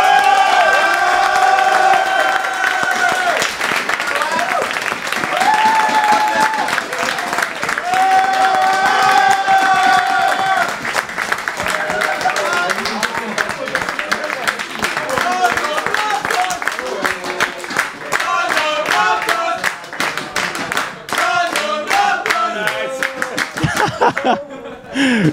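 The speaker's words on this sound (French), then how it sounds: "On applaudit." Audience at an Overwatch tournament final cheering, clapping and laughing for the winners, a loud lively crowd din with bursts of laughter, people speaking over it.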